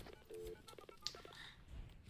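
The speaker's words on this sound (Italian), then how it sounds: "Però, vediamo una telefonata." Faint phone dialing tones in Far Cry 6 as a call is placed, a few short beeps in quick succession, quiet and brief under a low game background.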